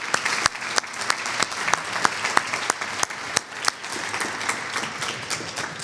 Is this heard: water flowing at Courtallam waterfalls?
no